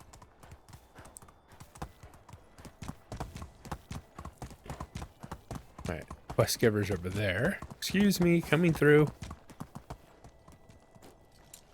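Horse hooves clip-clopping in the video game Medieval Dynasty, a steady rapid gallop of hoofbeats running throughout while someone talks briefly over it.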